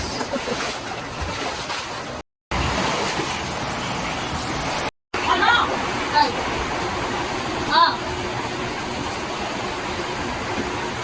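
Floodwater pours into a house, a loud, rushing broadband wash broken by two brief cuts, with people talking over it.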